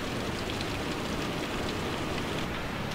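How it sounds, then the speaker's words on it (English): Steady rain falling outdoors on Eleuthera during a heavy downpour, a continuous broadband hiss of drops on surfaces, fairly close and even throughout with no talking. "It's really raining out there."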